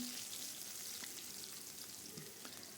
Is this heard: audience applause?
no